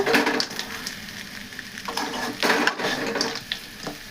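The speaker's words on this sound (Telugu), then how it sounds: "ఇది ఇంకా ఇంకా ఫ్రై చేసామనుకో కొంచెం బజ్జి బజ్జిలాగా అయిపోతుంది" A bitter gourd and eggplant curry with chilli powder fries in a pan, giving a soft, steady sizzle broken by a few stirring scrapes at moderate volume, with no talking.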